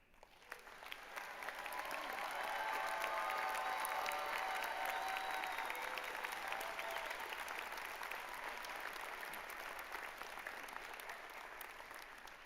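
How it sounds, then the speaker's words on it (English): Sustained applause from a graduation ceremony audience at SJR State's fall morning commencement, building over the first couple of seconds into a broad, steady wash of clapping that holds at full strength, with no talk over it. "as the rest of us clap and congratulate you on your accomplishments"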